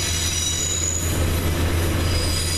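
A train heading to Cardiff Bay, heard from on board, rolls along the rails with a loud continuous rumble, a low steady drone and high metallic wheel squeal throughout.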